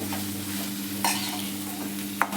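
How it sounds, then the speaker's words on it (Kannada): Grated coconut fries in oil in a pan for a festival meal, a steady soft sizzle with a low background hum, broken by two short scraping stirs of a spatula. "ಇಷ್ಟನ್ನು ಎಣ್ಣೆಲಿ ಫ್ರೈ ಮಾಡ್ಕೋತೀನಿ"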